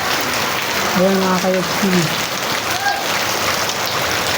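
Heavy rain pours down in a dense, unbroken wash of noise while someone talks over it for a moment.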